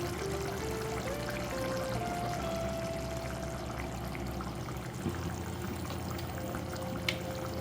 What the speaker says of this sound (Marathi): आता ह्यामध्ये मी क्रीम घालत आहे